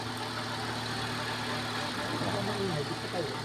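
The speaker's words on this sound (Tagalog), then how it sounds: "Tahimik yung makina." An overhauled Honda City i-DSi engine idles after its first start, a steady, even mechanical rumble heard close up, with people talking faintly in the background.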